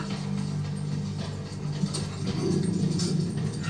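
A dog in a TV show whimpers under a low mechanical hum and faint clicking, at moderate volume, with no talking over it.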